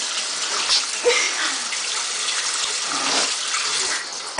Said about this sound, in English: funnest shower you've ever had, isn't it?